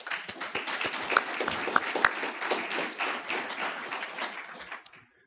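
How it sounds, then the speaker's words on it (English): A room of meeting attendees at a research celebration gives a round of applause, a crisp burst of many hands clapping with a few sharp nearby claps, fading out toward the end. "we just owe them a round of thanks and applause"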